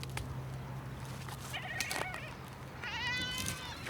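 Goats in the Cretan mountains giving a few wavering bleats, faint and somewhat distant, one short call and then a longer quavering one, over low background noise.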